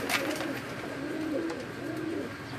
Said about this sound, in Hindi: यह हमारा 10 नंबर बड़ा कबूतर, मोटा 10 नंबर